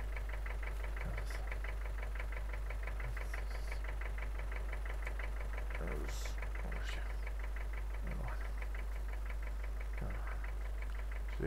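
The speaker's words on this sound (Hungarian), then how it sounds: "Az nem is állítom le a motort" A tractor engine idles in Farming Simulator 19, a steady low mechanical hum with a knocking pulse that runs unbroken throughout, with a few faint brief sounds on top.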